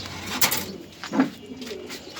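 A Spanish gorgorio pigeon at a farm coos in a few short, close bursts, with light rustling and a faint thump between calls.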